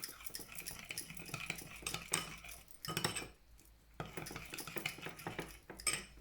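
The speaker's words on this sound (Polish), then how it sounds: "Mieszać ten sos." A spoon stirs sauce for a broccoli and mushroom salad in a bowl, with steady close clinks and scraping of metal on dish that pause briefly in the middle and then resume.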